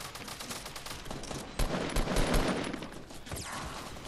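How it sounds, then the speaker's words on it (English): Fortnite battle-royale gunfire rattles in quick automatic bursts, moderately distant and fairly faint, with a louder cluster of shots near the middle and scattered cracks throughout. "Oh, we're getting shot."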